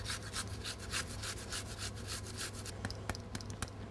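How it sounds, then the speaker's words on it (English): Fresh ginger rubbed against a grater in quick continuous rasping strokes, close and fairly loud, thinning into a few separate scrapes near the end, with no voices. "I'm gonna grate in about 1 inch of fresh ginger."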